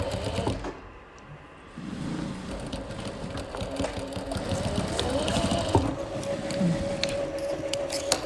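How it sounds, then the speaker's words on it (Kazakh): A sewing machine runs a straight seam along a zipper. Its close, steady mechanical whir and rapid needle ticking pause briefly near the start, then continue evenly to the end. "мына жерден былай түп-түзеу тігіс жүргізіңіз"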